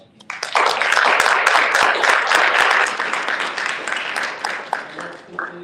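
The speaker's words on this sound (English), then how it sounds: "let's give them a big round of applause again." Audience at a press conference gives panelists a round of applause that starts abruptly, holds loud and dense for a few seconds, then gradually thins out into scattered claps and murmurs.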